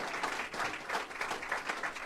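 Applause from an audience at a New Jersey budget signing event, cheering Governor Phil Murphy. A steady, dense wash of many hands clapping, fairly soft and distant, sustained throughout with gentle swells.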